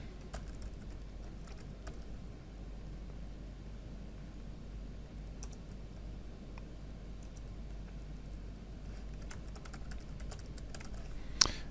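Keys on a computer keyboard tapped in scattered, light clicks while login credentials are entered, faint over a steady low hum.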